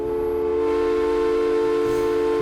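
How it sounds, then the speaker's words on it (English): A train whistle blown in the video game Fallout 76, a loud steady multi-tone steam whistle held continuously for several seconds, heard alone without speech. "You can blow the train whistle."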